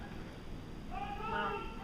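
A voice gives a short, drawn-out meow imitating a cat, rising and wavering over a faint background hum, at a Renaissance fair.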